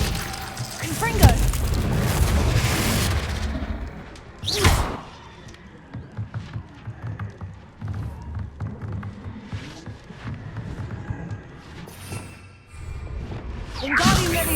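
Confringo fire spell blasts in Hogwarts Legacy on Xbox Series X in the Dark Forest, heard as several heavy booming whooshes with crackling bursts, separated by quieter game ambience.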